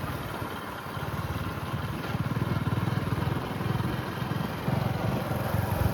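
A motorcycle fitted with a silencer idles close by, giving a steady, soft low-pitched rumble with even engine pulses and no revving, quiet enough to seem almost electric.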